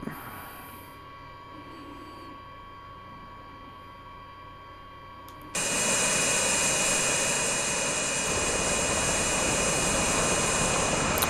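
A V-22 Osprey's engines and propellers spin up in Microsoft Flight Simulator: a steady mechanical whine and hum at first, then a sudden jump to a loud, dense turbine roar with a high whistle that holds steady.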